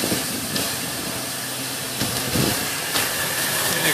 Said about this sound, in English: It's got steam, of course, now.